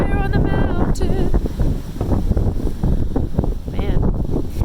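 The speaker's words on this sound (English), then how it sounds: "It's very, very windy out here." Strong wind on a mountainside during a wildfire buffets the microphone in a constant roar while someone talks over it throughout.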